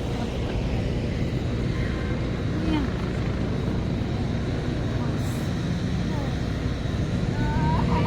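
Small propeller plane flying over an air show by the Lake Erie shore in Cleveland, a steady distant droning hum with a broad background wash throughout.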